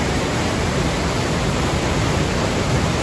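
A rushing mountain stream on the Pacific Crest Trail near Forester Pass pours steadily, a loud continuous broadband roar of running water close by with no pauses.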